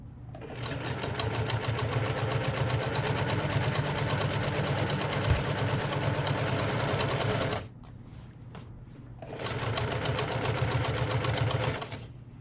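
A sewing machine back stitches a tote bag, running in a loud steady whir for several seconds, pausing briefly, then resuming at the same pace before stopping.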